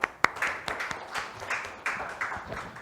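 Audience applause after a presentation on post-COVID labour in Gwanak by a labour welfare centre official; scattered claps with a few sharp close ones, building into a steady patter of many hands, moderately loud.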